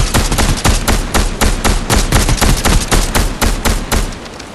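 Rapid video-game gunfire rattles in a loud, continuous burst of closely spaced shots for several seconds, with no talking.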